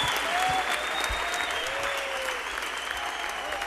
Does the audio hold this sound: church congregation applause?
yes